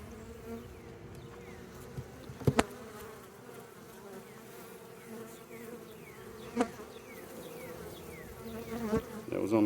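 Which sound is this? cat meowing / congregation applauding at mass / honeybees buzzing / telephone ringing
honeybees buzzing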